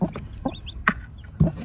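Chickens cluck in short, soft bursts at an irregular pace, close by and fairly quiet, with no talking over them.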